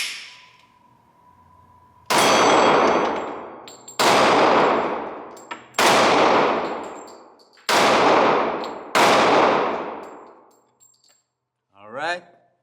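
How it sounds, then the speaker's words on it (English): Five loud, sharp pistol shots from a Glock 27 and Glock 26, fired a couple of seconds apart at close range, each with a ringing metallic tail and echo, followed by a short rattle of handling. "right after, I'm gonna shoot Glock 26"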